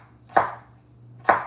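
Two crisp knife chops through a carrot on a cutting board, cutting it into tiny bits for vegetable couscous, spaced about a second apart over a faint steady hum.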